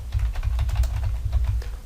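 Quick, light keystrokes on a computer keyboard tap out in a steady, uneven patter, close and moderately quiet over a low background hum.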